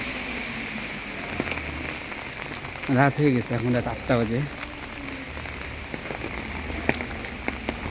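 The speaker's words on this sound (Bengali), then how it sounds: "দেখুন কী অবস্থা বৃষ্টিতে সবাই ছাতা নিয়ে যাচ্ছে" Rain falling on a street at night in Bari, Italy, a dense steady patter on pavement throughout, with someone speaking briefly over it in the middle.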